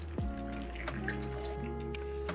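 Hot water is poured over food in a metal pot, giving a soft splashing trickle against a steady low hum in a quiet hotel room, fairly faint and without talking.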